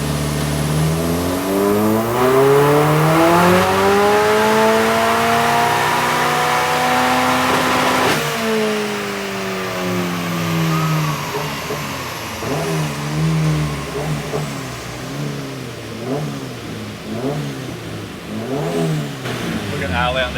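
A car engine revs hard on a dyno and climbs steadily in pitch, drops sharply, then surges again in pulsing bursts, loud and close.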